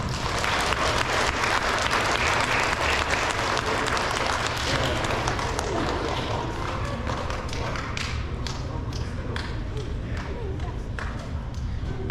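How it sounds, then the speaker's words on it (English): A crowd applauds a student at an elementary school awards ceremony, loud and dense clapping that gradually thins toward the end, with some thumps and voices mixed in. "You guys can give her a round of applause"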